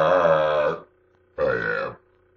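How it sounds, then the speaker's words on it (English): Two long, loud belches, the first lasting nearly a second and the second a bit shorter after a brief pause, both deep and rumbling with a rough, voiced tone and nothing else around them. "this is supposed to be a burping vid"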